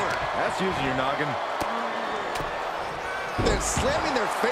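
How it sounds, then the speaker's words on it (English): A wrestler's face is slammed down onto the ring during a no-holds-barred wrestling match, giving a sharp thud amid a sustained crowd roar, with a commentator talking over it. "They're slamming their face down."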